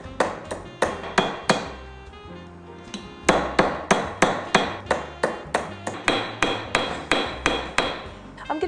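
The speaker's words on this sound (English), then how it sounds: "we're going to hammer the two ends together and solder it shut" Steady metal hammering as the two ends of a sterling silver bangle are hammered together, about two dozen sharp ringing blows in quick regular bursts with a short pause partway through, close and loud.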